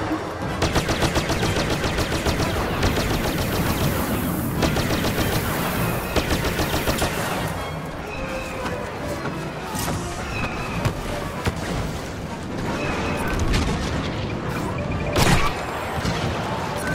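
Imperial walker cannons blasting at an escape ship on the Endor map of Star Wars Battlefront, a dense, sustained barrage of rapid shots and booms amid loud battle noise throughout.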